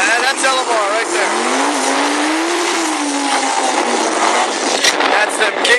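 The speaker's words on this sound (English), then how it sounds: "you're watching the LMR car go down" A modified LMR race car screams down a drag strip at TX2K13, its engine rising in pitch with tire squeal, loud and close, with speech heard alongside.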